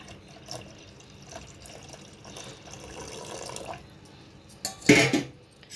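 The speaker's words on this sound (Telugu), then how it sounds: "ఇప్పుడు ఇందులోకి మనం బెల్లం వాటర్ పోసుకుందాం" Jaggery water is poured into semiya payasam, heard as a soft, low trickle of liquid with faint clinks, followed by a brief louder splash near the end.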